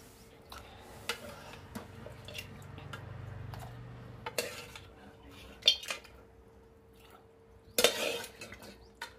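Cooked goat head tipped onto fried spices in a pot and stirred, with scattered clinks and scrapes of a utensil against metal, a couple of sharper clanks and a faint steady hum underneath.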